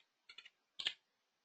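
Two quick bursts of computer keyboard keystrokes, a cluster of three light clicks and then a pair, close and faint in an otherwise silent room.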